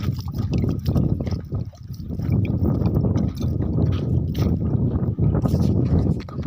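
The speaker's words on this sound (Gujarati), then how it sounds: "તો પાણી આપણે છાંટી દઈએ" Water sprinkled across a construction site at a farm, heard as a steady, close, broadband splashing hiss that runs almost unbroken, with only brief dips.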